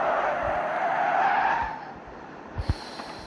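A car drifting, its tires squealing in a long loud screech that fades out after a second or two, followed by a few short thuds and a quieter hiss at a distance.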